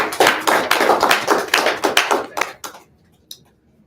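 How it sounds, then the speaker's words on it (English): An office audience gives a round of applause, loud close clapping from a small crowd for under three seconds before it stops abruptly, with one last clap after a short pause. "Give them a big round of applause"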